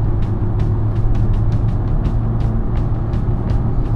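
An electric car accelerates to high speed, heard from inside as a steady loud road and wind rumble with faint ticking above it, continuous with no talk.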